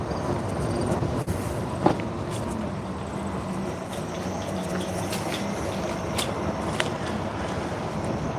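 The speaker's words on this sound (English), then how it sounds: "Going under the train." An A line commuter train in Denver, running between downtown and the airport, rumbles past overhead as the listener travels beneath it, a steady, loud broadband roar with faint clatter and no talking.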